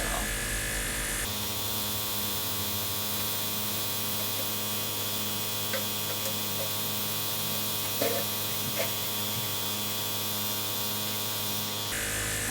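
A Luminess Air airbrush makeup device sprays with a steady, unbroken electric motor hum that holds evenly for about eleven seconds, close and moderately loud, with a couple of faint clicks partway through.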